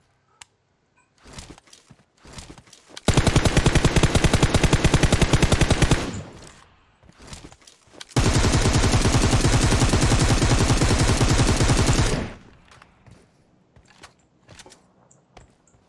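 Automatic gunfire from a battle-royale style video game: two long, loud sustained bursts of rapid shots, each lasting several seconds, separated by scattered single shots and footstep-like clicks, with the game sound heard alone.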